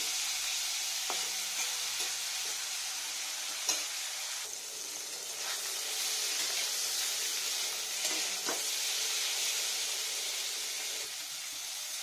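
Cauliflower and paneer fry together in a pan with a steady close sizzle, broken now and then by clicks and scrapes of stirring.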